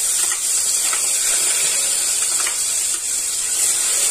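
Onions tipped into a hot pan on a low flame while cooking a ridge gourd (tori) curry, producing a steady, loud, close sizzling hiss with faint crackles throughout.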